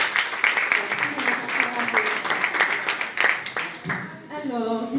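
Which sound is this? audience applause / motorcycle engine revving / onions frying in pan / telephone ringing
audience applause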